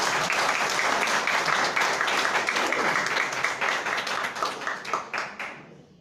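Hearty applause from a room of attendees at a nutrition training session welcoming new guests, dense clapping that thins toward the end into a few scattered claps before stopping.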